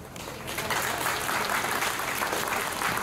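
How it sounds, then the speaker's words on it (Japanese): Outdoor audience applause closing a Ibaraki Prefectural Police band performance at Tomobe service area, a steady wash of many hands clapping at moderate distance, continuous for a few seconds. "もう一度盛大な拍手をお願いいたします"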